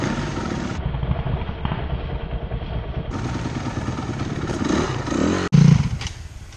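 A dirt bike engine runs with a loud, rough, sustained drone that rises in pitch near the end and cuts out briefly before returning.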